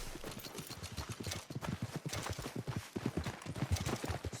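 Horse hooves clip-clop in a steady, quick rhythm in the Red Dead Redemption II video game, fairly close and clear, with no talking.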